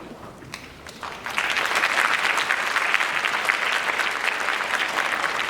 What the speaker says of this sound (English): let's also give a round of applause to her mother and father who are here.